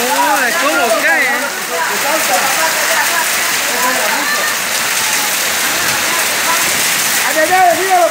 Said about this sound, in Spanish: Está cayendo la lluvia, la lluvia.